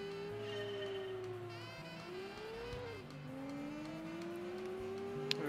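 An engine launches and accelerates hard in Gran Turismo 2, its revving tone climbing steadily through the gears, close and continuous, with a brief tire squeal near the end.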